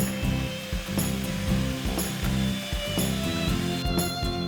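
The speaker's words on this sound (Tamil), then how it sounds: "ஒரு முட்டை எடுத்துக்கலாம். சால்ட் பிஞ்ச் ஆட் பண்ணி நல்லா பீட் பண்ணிக்கலாம்." An egg with a pinch of salt being beaten hard for brownie batter, a loud, continuous whirring mechanical beater sound with rhythmic rattling pulses, close and alone without speech.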